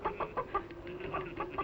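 A chicken clucking in short, repeated, fairly quiet bursts with a low background hum.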